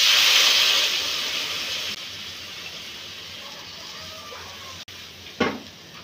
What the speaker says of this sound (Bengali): ঝোল তরকারি ফুটতিছে